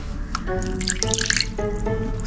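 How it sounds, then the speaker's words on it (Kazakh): A little water is poured while preparing a salad, making a close, light trickle with splashy drips over a few seconds and no talking. "Ал кеттік, кішкене су қосайық."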